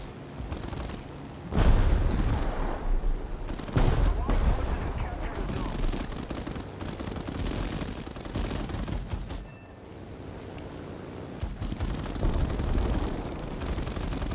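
Aircraft machine guns in an air combat video game fire in repeated rattling bursts with booming impacts, loud and close, while a player talks intermittently.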